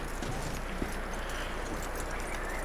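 Horse hooves clip-clop at a steady walking rhythm in Red Dead Redemption 2, close and continuous over a dense ambient wash, with no voices.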